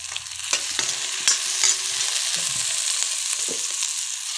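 Cumin and spices sizzle steadily in hot oil, a continuous crackling hiss with occasional scrapes and stirs of a spoon, close up, no talking.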